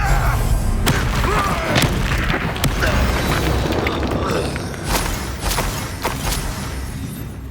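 Confringo fire spell blasts in Hogwarts Legacy, a string of loud booming impacts and sharp cracks at irregular intervals over a rumbling game soundscape.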